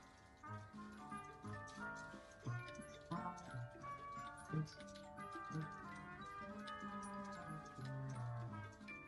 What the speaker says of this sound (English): We're in a little German shop that makes cuckoo clocks of all kinds.